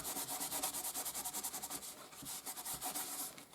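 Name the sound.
kitchen roll buffing over heat-embossed card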